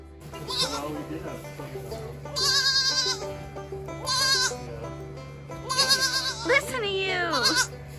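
Baby goats on an organic goat dairy farm bleat in several loud, quavering bursts, one voice overlapping another, over a steady low hum with a person talking in places.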